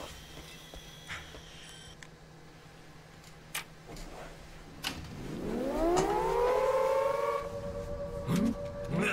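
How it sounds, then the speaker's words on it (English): A siren in the video game Siren: Blood Curse winds up from about five seconds in, rising into a loud sustained wail with layered tones, over faint background noise and clicks. "go over this way and activate the siren"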